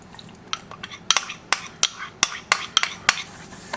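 Spoon scraping and clinking around a bowl as breadcrumbs are stirred together with four tablespoons of melted butter, a series of sharp, close taps at an irregular rhythm with soft scraping between them and no voices.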